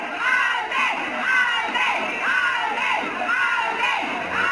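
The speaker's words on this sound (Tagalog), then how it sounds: "Sigawan ng mga fans ng Alden eh." Fans of actor Alden Richards scream and cheer in a loud, sustained crowd roar with overlapping high shrieks, steady throughout without pauses.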